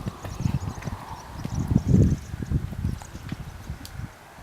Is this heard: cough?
no